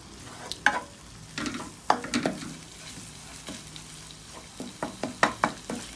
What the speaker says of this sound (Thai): จะใส่เครื่องแกงลงไปผัดเลย